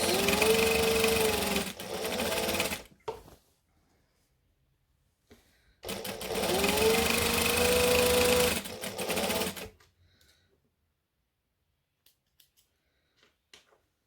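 A sewing machine runs in two long bursts, stitching Christmas shorts, with brief stops and quiet handling in between; the motor whirs loud and close, then it goes quiet near the end.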